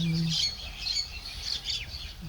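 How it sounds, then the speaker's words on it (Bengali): Birds chirping beside a village mustard field, several quick high twittering calls close together over faint rural background noise, after a brief low hum at the start. "সরিষা ক্ষেতের পাশেই কত পাখি কিচিরমিচির করতেছে"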